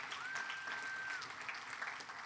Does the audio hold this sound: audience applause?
yes